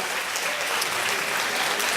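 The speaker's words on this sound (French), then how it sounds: "Je crois qu'on peut l'applaudir très fort pour son discours" Steady, dense applause fills a hall at a seniors' lunch in Mantes-la-Jolie, a continuous wash of many hands clapping at moderate loudness with no voices over it.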